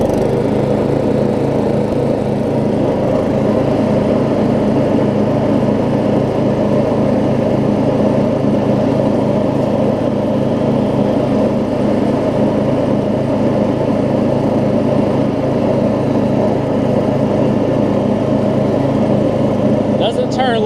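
Murray riding lawn mower running steadily with its blades engaged, a loud, constant engine drone with a low rumble that continues unbroken, recorded close up.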